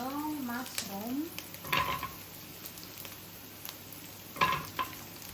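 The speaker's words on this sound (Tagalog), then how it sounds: "mag-gisa po tayo ng onion and garlic. So, ilagay na po natin yung mushroom." Onion, garlic and mushroom sautéing in a pan make a continuous soft sizzle, broken by a few louder scrapes and clinks of stirring. A brief voice-like sound comes at the start.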